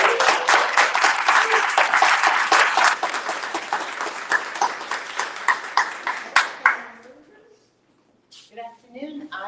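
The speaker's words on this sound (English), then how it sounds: "let's give everybody a round of applause for being here today" Audience applause fills a room at a community partnership event on financial resources, a dense steady clapping that runs several seconds before thinning and fading out, followed by a person beginning to speak.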